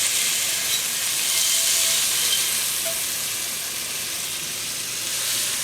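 Six tablespoons of butter sizzle steadily in a pot, a continuous bright frying hiss that holds at an even, fairly loud level throughout with no voices.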